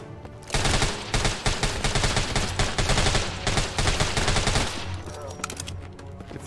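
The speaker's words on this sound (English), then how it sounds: "Hopefully he doesn't mind me constantly shooting him in the face." Sustained automatic gunfire in a zombie shooter video game, dense rapid bursts close and loud for several seconds before easing off near the end.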